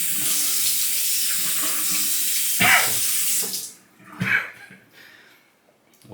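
Tap water runs steadily into a sink while the face is wetted for a wet shave with Proraso Green soap and an Edwin Jagger DE89 razor; close splashing and hand scooping break the flow before it fades, no talking.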